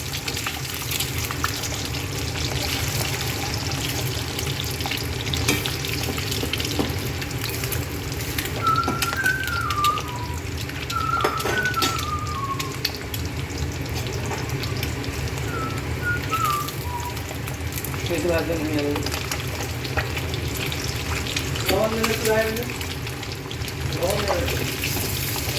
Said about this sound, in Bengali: এবার ডিমটা একটু ভেজে নিই।